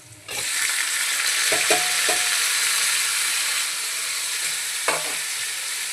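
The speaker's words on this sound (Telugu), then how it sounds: "ఇప్పుడు ఈ టమాటాను కలపాలి." Tomatoes being stirred into browned onions frying in a pan, a loud steady sizzle with a few scraping knocks of the spoon, close up and without talk.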